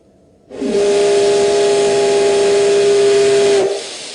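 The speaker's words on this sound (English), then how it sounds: "A steam locomotive runs through the hills of Iwate Prefecture." A steam locomotive running through the hills of Iwate Prefecture sounds its whistle in one loud, steady, hissing blast of about three seconds, with no voices.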